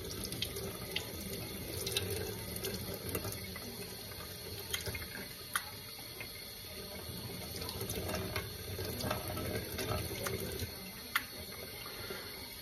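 Running water pours and splashes steadily through a small fitting of a Miele CM6350 coffee machine, with occasional clicks and knocks of handling nearby.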